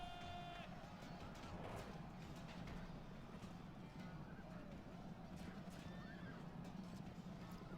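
Horses of horse archers whinny in a Roma Surrectum III battle, with a brief neigh near the start over a constant, fairly quiet din of hooves and battle noise.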